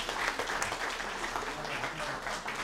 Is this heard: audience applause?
yes